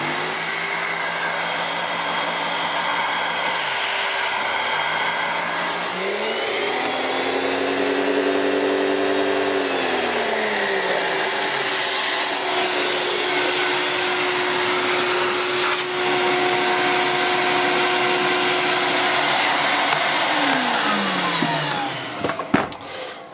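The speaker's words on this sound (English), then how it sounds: "If I turn the thing on, you should hear the brush roll." The brush roll of a Johnson Diversey Ensign 350 floor machine runs loudly and steadily, a droning whir with a tone that dips and rises partway through before settling, then winds down with clunks at the end.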